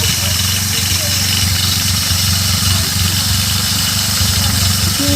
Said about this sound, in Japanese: やっぱり消音マフラーはほとんどもうチェーンの音と、あとキャブの音ですね、今聞こえてるのは。